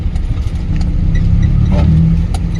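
A car engine pulling in first gear at low speed during a driving lesson, a steady close low rumble with a slight rise in revs partway through.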